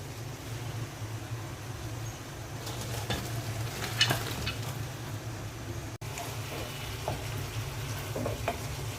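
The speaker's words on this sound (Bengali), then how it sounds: "পেঁপে, মুরগি আর আলুটাও আমি একটু কষিয়ে নেব।" Pieces of chicken, papaya and potato are stirred and sautéed in a pan, a steady low sizzle broken by scraping stirs and clinks of the spatula, with a constant low hum beneath and no speech.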